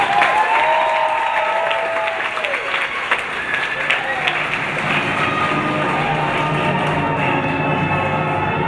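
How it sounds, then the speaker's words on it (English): An audience at a talk about the 20,000 Leagues Under the Sea ride breaks into applause, a dense, loud wash of clapping that continues steadily with a voice speaking over it. "big round of applause"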